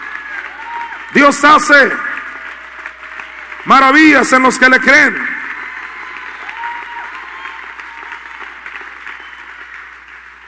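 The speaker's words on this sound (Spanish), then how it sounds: "Dele un aplauso al Señor" Church congregation applauding during a sermon, a steady bed of clapping and murmur running under the whole stretch while a preacher speaks loudly in two short bursts over it.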